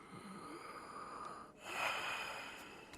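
A patient breathes deeply while a doctor examines them. One slow inhale is followed by a stronger, close exhale with a slightly wheezy, snorting edge, all quiet and alone.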